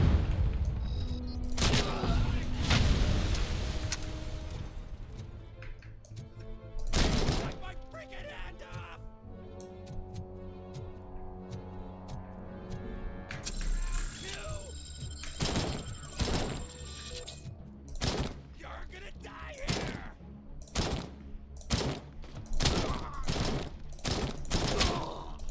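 Gunfire in Helldivers 2 crackles in loud bursts and single sharp shots, with rapid automatic strings and heavy thumps scattered through a busy game soundscape, mixed with other effects.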